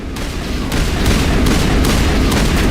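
Gunfire in the Mass Effect video game, a loud, dense burst of rapid shots rattling continuously with no pauses.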